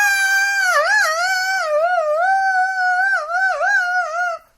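A human voice imitates a cat yowling as if under attack, producing one long, loud, wavering, tonal wail that bends up and down before cutting off abruptly.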